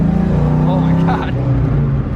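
A 6.0 V8 in an S10 drag truck roars loud and close with its exhaust cutouts open, a steady heavy drone through the whole stretch while people talk over it.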